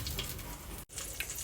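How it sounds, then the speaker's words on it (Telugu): Mustard seeds and cumin sizzle in a spoonful of hot coconut oil for a tempering, a steady close hiss with faint crackle and a momentary break partway through. "సో ఇప్పుడు మనం పోపు వేసుకుందాము. ఆవాలు, కొద్దిగా జీలకర్ర"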